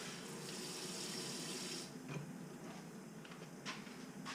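Water pours steadily from a cup into a cooking pot for canning figs, a continuous close splashing stream for about two seconds that then tapers to fainter trickles and drips.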